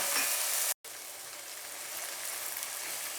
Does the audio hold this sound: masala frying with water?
yes